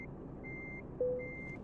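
Euro Truck Simulator 2 truck reversing alarm: quiet, evenly spaced high electronic beeps over a low engine rumble, with one brief tone cutting in partway through.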